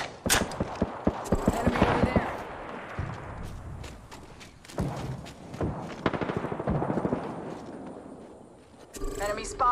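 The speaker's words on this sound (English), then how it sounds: "Opening fire on the enemy." Gunfire crackles in Apex Legends, with bursts of rapid shots and single loud reports, some near and some farther off, amid mechanical clanks and footsteps, while a voice speaks over it.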